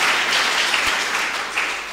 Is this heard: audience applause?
yes